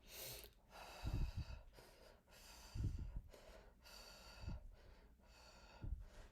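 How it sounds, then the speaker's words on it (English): Slow, deep belly breathing during a relaxation exercise, with four soft, low inhale-exhale swells roughly a second and a half apart, close and quiet in an otherwise still room. "Deep breathing through the belly."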